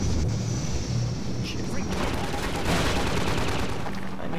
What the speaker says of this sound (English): Some rockets, man.